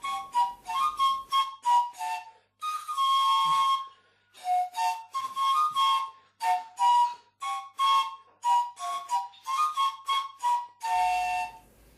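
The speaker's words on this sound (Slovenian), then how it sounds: "Poslušamo ljudsko pesem Tak dolgo sem hodil za teboj" Trstenke, Slovenian reed panpipes, play a folk song melody alone: clear breathy whistling tones in short phrases with brief pauses, close and fairly loud throughout.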